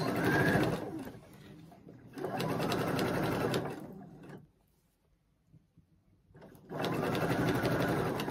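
A sewing machine stitches t-shirt fabric in two loud, steady bursts with a quiet pause between them, the motor hum close and continuous during each run.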